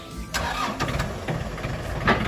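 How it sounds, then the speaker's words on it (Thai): The engine of a used Yanmar EF 494T tractor cranks and catches, settling into a rough, close, mid-pitched idle with a few uneven bursts over about two seconds. "เครื่องนิ่มๆติดง่ายๆครับผมไฮดรอลิกดีครับ"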